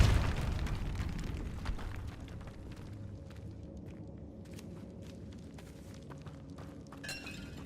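A Depulso force spell goes off in Hogwarts Legacy, with a loud shattering burst at the start that decays into a rumbling crumble, followed by scattered smaller cracks and debris pops.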